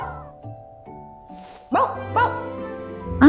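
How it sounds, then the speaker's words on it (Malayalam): A puppy in a cartoon animal story gives a few short, sharp barks and yips after quieter tonal sounds, growing louder toward the end. "എന്തിനാണ് നീ ഇപ്പോ ബൗബോ എന്ന് കുറിച്ചത്?"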